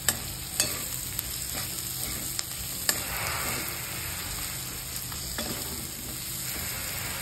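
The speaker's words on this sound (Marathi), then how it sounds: "चांगलं परतून घ्यायचं मस्त" Onion and spices with black masala frying in a pan, a continuous soft sizzle with occasional sharp spatula taps and scrapes as it is stirred, no voices.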